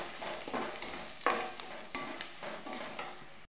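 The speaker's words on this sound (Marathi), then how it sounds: "मसाले तेलामध्ये व्यवस्थित भाजून घ्यायचे 2 मिनिटं।" Spices roasting in oil in a pan for a Marathi bhogichi bhaji, a soft, steady sizzle broken by several stirring scrapes, close and fairly quiet with no voices.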